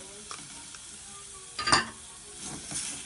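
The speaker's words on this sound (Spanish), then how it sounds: "Ya esto lo vamos a freír un rato" Meat and carrot frying in hot oil in a pot for Chilean charquican, a soft steady sizzle with a brief louder stirring scrape in the middle.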